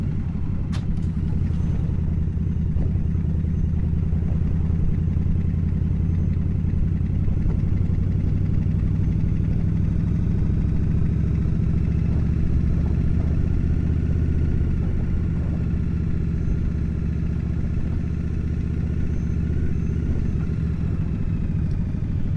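A motorcycle engine with a 6-speed gearbox drones steadily while riding, a continuous low rumble with faint wind noise and no speech, holding at an even level throughout.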